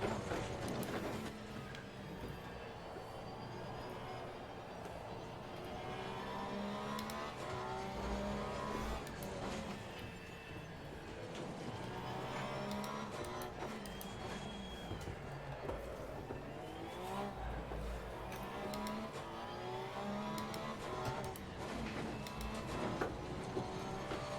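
Porsche race car engine in Assetto Corsa Competizione running on an aggressive setup, a steady loud drone that rises and falls with revs through gear changes, continuous for the whole stretch with no talk.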